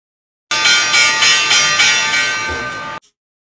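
An automatic opening bell at the New York market open rings for about two and a half seconds, loud and sustained, with a steady pulsing clang. It stops abruptly, and no one speaks over it.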